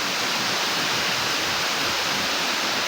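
Floodwater rushes past in a steady, loud, broadband roar, close and unbroken, with no voices over it.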